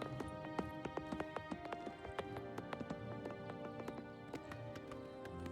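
Galloping horse hooves from The Elder Scrolls IV: Oblivion pound in a quick, fairly regular rhythm, close and distinct, layered over a droning musical score.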